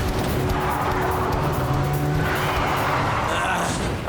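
A cartoon car drives fast and skids, a loud sustained engine roar mixed with squealing tires and a rising screech toward the end, close and continuous.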